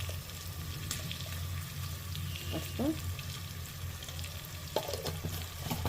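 Turmeric added to a sizzling tempering in a pan gives a continuous close frying hiss, with a few brief scraping stir sounds partway through.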